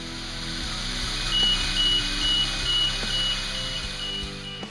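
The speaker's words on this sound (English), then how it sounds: "tilt alarm," A mobile elevating work platform's tilt alarm pulses in a thin, high, steady repeating electronic beep over a low mechanical engine hum, with occasional faint clunks.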